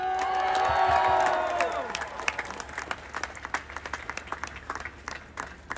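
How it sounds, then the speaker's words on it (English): A crowd at an outdoor rally breaks into loud applause and cheering that gradually thins out into scattered clapping. "let's give another round of applause"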